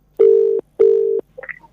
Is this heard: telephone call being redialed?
yes